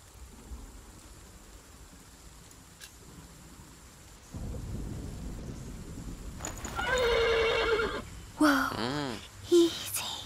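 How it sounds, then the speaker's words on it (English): In the video game The Pillars of the Earth, a horse whinnies near the end over a rumbling background of game ambience and thunder-like rain, with a few short cries rising above the low wash. "The horse nearly woke the guard."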